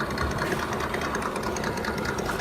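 A toy Batmobile's engine idles in a dense, continuous low rumble with a fast, even chugging texture, steady and fairly loud throughout.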